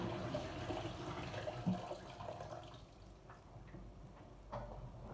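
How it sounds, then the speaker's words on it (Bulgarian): Cold water poured out of a pot while cooking pork with sauerkraut, a splashing rush that fades, followed by a few light clinks and taps, fairly faint. "Изливаме отново тази вода, студената вече."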